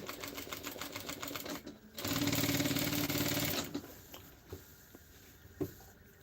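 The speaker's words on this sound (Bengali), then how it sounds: "সুন্দরভাবে কাত ঘেসে এই ডিজাইনটার কাজ ঘেসে সেলাইটা দিয়ে নিতেছি" A sewing machine stitches a shirt design, its rapid mechanical rattle running in short runs and one longer, louder burst, close by with faint handling noises between, no speech.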